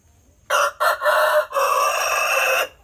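A grey rooster with a red comb and long tail crows loudly and close, giving a broken cock-a-doodle-doo that begins with a couple of choppy notes and ends in a long sustained call.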